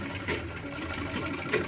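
A sewing machine stitches a saree, giving a fast, steady mechanical whir with rapid repetitive needle clatter, close and loud, with no speech.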